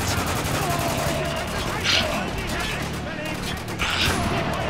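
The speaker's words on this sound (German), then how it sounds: "Ich schieße in der Zwischenzeit ein paar Leute über den Haufen." Sustained automatic gunfire in the video game Spec Ops: The Line, rattling almost without pause across the stretch, someone speaking over the shooting.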